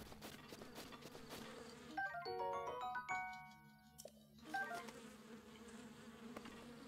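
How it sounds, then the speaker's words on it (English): Bees buzzing in the video game The Legend of Zelda: Breath of the Wild, a steady low insect drone with chiming game tones and notes rising briefly in the middle, no talking. "Ah, the bees! Not the bees!"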